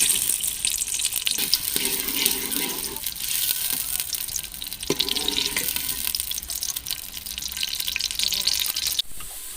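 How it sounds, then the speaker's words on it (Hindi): Chopped onions frying in hot desi ghee in a pot on a stove, making a steady, dense sizzle throughout with occasional stirring scrapes, fairly loud and close, with no voices. "घी गरम हो चुका है। इसमें हम कटे हुए प्याज डालेंगे।"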